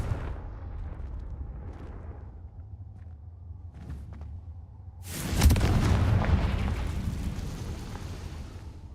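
A fire spell bursts in Hogwarts Legacy with a sudden loud, booming explosion partway through, rumbling and crackling as it decays over a low steady ambient drone.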